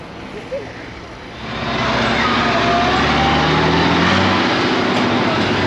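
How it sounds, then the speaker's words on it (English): A vintage tractor engine at a West Cork vintage ploughing and threshing show runs steadily and loudly, swelling in after a quieter start, with a broad rumbling drone and faint talk of onlookers nearby. "That is a lovely tractor."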